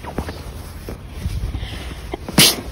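A single sharp sneeze bursts out near the end, preceded by rustling and shuffling as a child is bundled into a scarf and winter clothes before heading outside.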